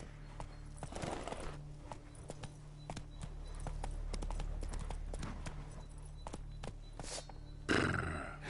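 Steady clip-clop of Roach the horse's hooves in The Witcher, a rhythmic run of close, distinct hoofbeats across the whole stretch, with a brief burst of louder noise near the end.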